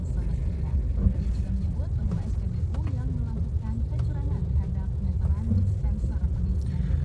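Cars idle and creep along in a traffic jam, a steady low engine rumble close by throughout, with a person talking over it.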